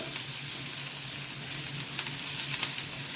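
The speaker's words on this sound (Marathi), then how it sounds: "त्यामध्ये जिरं, कांदा हे छान परतून घेऊ आपण." Cumin seeds and chopped onion sauté in hot oil in a pan, giving a steady, even sizzle that holds at moderate level with faint crackles and no voices.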